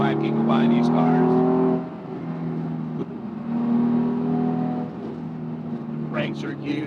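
A 2004 Porsche 911 C4S drives through curves, its engine droning and rising and falling with throttle changes, heard from inside the car beneath someone talking.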